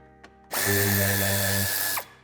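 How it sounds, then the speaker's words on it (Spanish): Power drill or impact driver whirring loudly as it backs out screws from the lower bumper supports of a 2018 Renault Kadjar, one sustained burst of about a second and a half with a brief tap just before. "En la parte inferior desmontaremos los tornillos que llevan sujetando los soportes."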